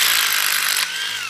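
A power drill bores a 16mm hole into a masonry substrate, giving a harsh, loud, steady grinding whir that cuts off abruptly near the end, leaving a quieter residual hum.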